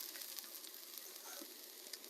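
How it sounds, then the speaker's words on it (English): Shredded cabbage sizzling in a pan during a camp stir fry, a steady faint hiss with soft crackles throughout, no talking. "You hear that sizzle."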